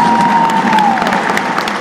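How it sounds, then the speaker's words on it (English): A brief round of applause for a man in overalls and boots: steady, dense clapping from a small crowd, with a voice briefly audible over it. "let's give him a round of applause"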